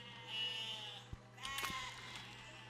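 Sheep bleat in the physics building game Besiege, a wavering in-game bleat over a steady tonal hum, followed by a brief clatter and a second, shorter bleat.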